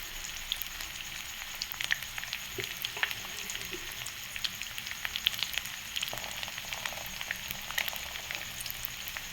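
An omelette sprinkled with cumin and chili powder fries gently in a pan over a low flame, giving a soft continuous sizzle with scattered small pops and crackles, close and steady, with no talking.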